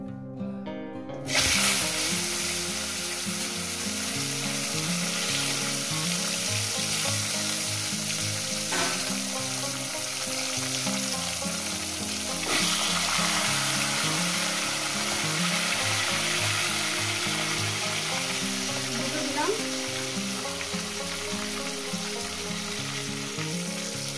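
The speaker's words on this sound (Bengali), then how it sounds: "মাছগুলো আমার একটা ভাজা হয়ে গেছে, অপর সাইডটা উল্টিয়ে দেবো।" Tilapia pieces fry in a pan of hot oil with a steady, dense sizzle lasting throughout, joined by occasional stirring clatter, with no talk.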